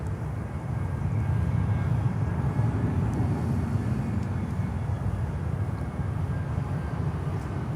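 An Avianca cargo plane arriving at Miami airport gives a moderate, steady low engine rumble from a distance, constant throughout with faint higher ticks, no talk.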